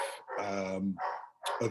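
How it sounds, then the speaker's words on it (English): A dog barks several times in quick, close bursts, loud and alone with no talking over it. "You can hear my dog in the background."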